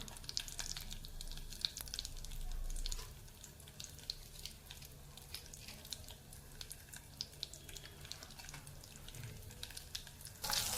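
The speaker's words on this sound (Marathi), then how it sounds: "फोडणी झाली आहे." Mustard seeds and asafoetida sizzling in hot oil in a kadhai for a tempering, a faint continuous crackle with scattered small pops, heard alone without talk.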